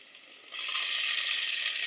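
Garlic, onion and tomatoes fry in hot oil for a pea curry, a soft hiss that swells suddenly into a loud, steady sizzle.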